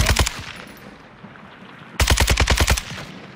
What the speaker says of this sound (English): I literally can't see what I'm shooting at.